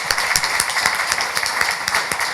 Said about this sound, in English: Maybe I can ask everyone to give a round of applause and thank you for that.